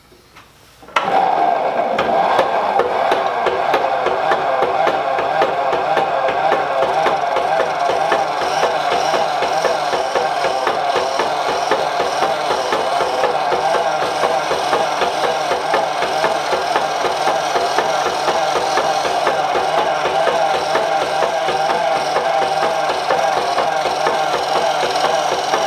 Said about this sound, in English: I'm going to take one of my parting tools here and see if I can put a small groove where those lines are